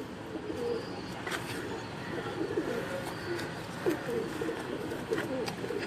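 Pigeons coo repeatedly in soft, rolling phrases close by, with scattered faint chirps and a low background hum.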